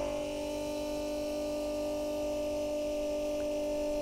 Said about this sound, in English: Now it's pumping it through the hose and into the toilet.